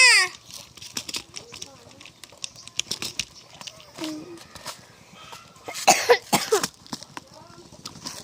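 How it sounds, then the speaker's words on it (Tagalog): Several sharp coughs break out among bits of talking, irregular and close. "Umuubo ako"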